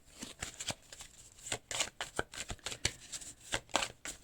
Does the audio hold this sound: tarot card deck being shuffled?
yes